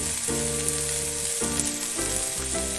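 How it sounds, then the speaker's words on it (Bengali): Tomato and radish sautéing in a pan for a Bengali radish and fish-head dish, a steady close sizzle with low background music. "টমেটো আর মুলো দুটোই ভালো করে কষে নিয়েছি"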